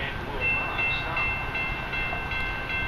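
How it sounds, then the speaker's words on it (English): A non-stopping Metra express train runs through Western Springs station, its wheels and cars making a loud, steady rumbling roar with faint high squeals. A public-address announcement may sound faintly underneath. "The next METRA train approaching your station will be a METRA Express train and will not stop."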